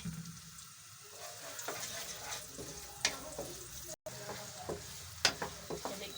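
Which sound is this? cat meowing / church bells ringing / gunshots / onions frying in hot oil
onions frying in hot oil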